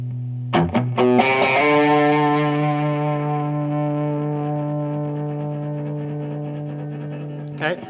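Electric guitar run through overdrive and distortion pedals together: a few quick picked notes, then a loud chord that rings on with long, slowly fading sustain, heard alone.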